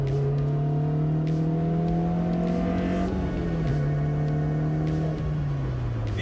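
A Honda S2000 engine revs hard and steadily, rising in pitch as it climbs into VTEC, with a loud, continuous, high-pitched wail that is heard up close.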